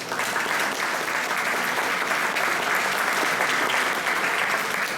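Round of applause from an audience at a book presentation in Aveiro, dense steady clapping that fills the room for the whole stretch.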